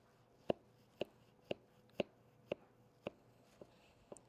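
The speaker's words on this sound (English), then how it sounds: "So go ahead and we'll cut it." A knife cuts through a slab of firm homemade peanut butter fudge, giving about eight crisp, evenly spaced taps as the blade meets the board, close and fairly quiet in a still room.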